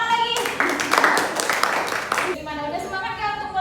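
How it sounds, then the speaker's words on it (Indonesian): Classroom students clapping hands together in a burst of rapid, fairly close claps lasting about two seconds, with a teacher's voice speaking over and around it. "Oke, tepuk tangan lagi."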